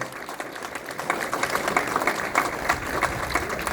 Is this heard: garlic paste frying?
no